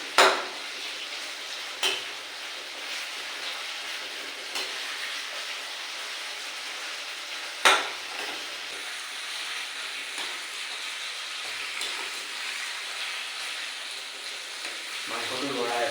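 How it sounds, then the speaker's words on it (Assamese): Meat and onions frying in a pan while being stirred, a steady soft sizzle running throughout with a few sharper utensil scrapes and knocks against the pan. "মাংসটো লৰাই আছোঁ। মাংসটো পূৰা ধুনীয়াকৈ সিজিছে, একদম বুট বুট কৰি আছে।"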